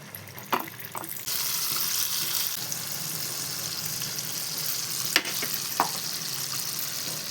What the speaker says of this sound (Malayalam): ഇനി നമുക്ക് കുറേശ്ശെ മാവ് ഇതിലേക്ക് ഒഴിച്ചു കൊടുക്കാം.